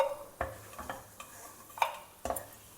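Cashew nut pieces fry in ghee with a faint sizzle, while a spoon stirs and scrapes against the pan in several sharp clinks spread over a few seconds.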